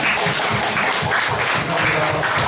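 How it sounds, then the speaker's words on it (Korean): Applause from the gathered delegates at a Presbyterian church general assembly in a large hall fills a steady, dense wash of clapping with no break. "박수 한번 쳐주세요"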